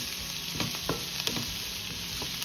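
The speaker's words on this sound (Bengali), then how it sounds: "একটু ভালো করে ভাজা ভাজা করে নিই" River prawns fry in a pan with a close, continuous sizzle, broken by a few clinks and scrapes of stirring; no voices.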